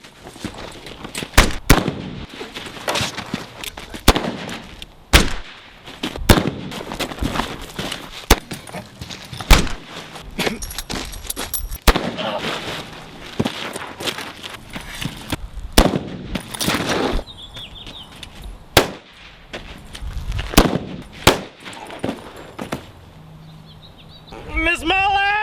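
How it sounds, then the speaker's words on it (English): Repeated sharp gunshots ring out during a staged Wild West gunfight show in New Mexico, loud bangs scattered irregularly across the scene amid shouting performers and crowd noise. "We're coming out, but we're coming out shooting!"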